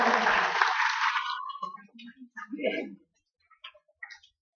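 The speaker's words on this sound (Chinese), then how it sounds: "我们热烈掌声来感谢" A brief burst of applause at a certificate ceremony during a training workshop quickly dies away, leaving a few soft scattered noises and short silences.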